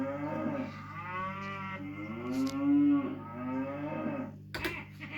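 Cows moo loudly and alone on the Moo Moo Farm track in Mario Kart 64, a long drawn-out bovine call with a steady low hum beneath and a brief sharp blip near the end.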